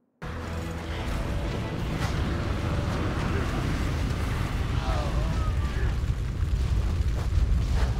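Missile explosions from Mechatork's gnome forces during a World of Warcraft battle against Crushcog on an icy lake, a dense, continuous roar of booms and bursts with faint voices mixed into the game audio throughout.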